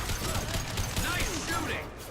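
Gunfire in a firefight in the video game Mass Effect 2, a dense rattle of shots and impacts, loud and continuous over a brief stretch, with voices mixed in.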